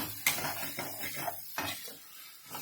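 Onions with ginger, garlic and green chili paste being sautéed in a pan. A few faint spatula scrapes and metallic clinks are spaced apart, with a quiet background between them.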